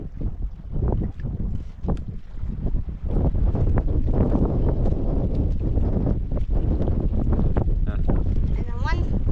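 Strong gusty wind buffets the microphone in loud, continuous rumbling blasts, with brief voices partly heard near the end.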